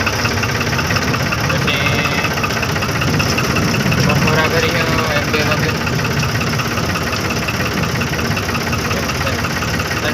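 A tractor engine running at idle in a village on a cold day, a loud, continuous rumbling chug that holds steady throughout while people talk nearby.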